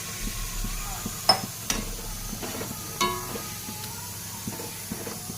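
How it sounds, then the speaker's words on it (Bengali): Water goes into masala frying in oil for a bhindi curry, with a quiet close sizzle, scraping stirs and a few sharper bursts. "মশলা থেকে তেল বের বেরোতে শুরু করেছি এবার এর মধ্যে জল দিয়ে দেবো"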